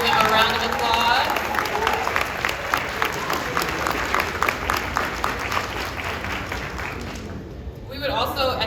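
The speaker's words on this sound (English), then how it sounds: "Give them a round of applause" Graduates and families at the Surry County High School Class of 2022 graduation in Surry, Virginia, applaud the standing faculty and staff. The clapping is loud and sustained, mixed with crowd murmur, and fades near the end as a voice returns briefly.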